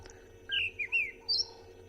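A robin, a resident bird at a South African private game reserve, sings four short bright chirping phrases, clear and fairly close against quiet morning background hum.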